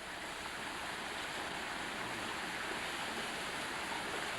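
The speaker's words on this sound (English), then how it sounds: "I guess for an island like this, that's a pretty good waterfall" A waterfall on an island pours in a steady, broadband rush of falling water, continuous and fairly distant, with no voices.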